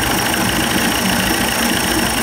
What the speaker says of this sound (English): she's idling okay